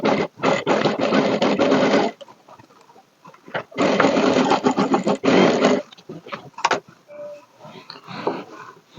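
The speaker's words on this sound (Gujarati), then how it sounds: "હવે આપણે આનું સિલાઈ કરી અને શોલ્ડરનું ફિટિંગ કરી દઈશું." A sewing machine stitches a blouse shoulder seam in two long, steady whirring runs, close and loud, separated by a short pause with light handling clicks and a softer final burst.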